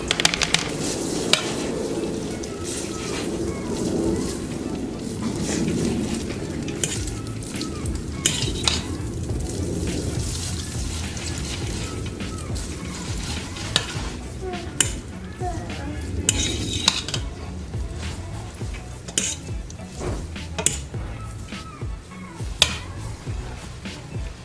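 Spaghetti tossed and stirred in melted butter sauce in a pan, with a steady soft sizzle under repeated scraping, clinking utensil strokes and scattered metallic taps close by.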